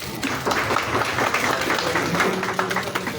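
A crowd applauding guest Ustad Haji at a ceremony in Lahore, dense continuous clapping with some voices mixed in beneath it.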